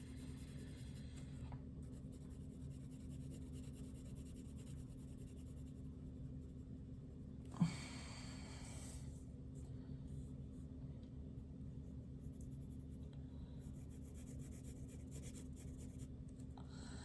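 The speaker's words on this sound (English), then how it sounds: "I'm going to constantly be changing my pencil direction." A graphite pencil shades on paper during a Bargue drawing exercise, making faint, continuous soft scratching as the stroke direction keeps changing, with one brief louder bump midway over a quiet room hum.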